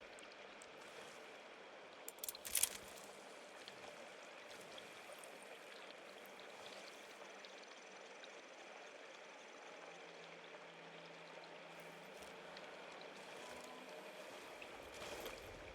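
A game character wades through water, with a steady rushing, sloshing wash close by and a brief louder splash early on.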